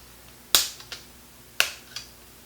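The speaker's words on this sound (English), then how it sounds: "that's just the snap that it makes." A plastic bezel on a Toshiba Satellite C55 laptop snapping as it is pried off: two sharp, loud cracks about a second apart, each followed by a fainter smaller click.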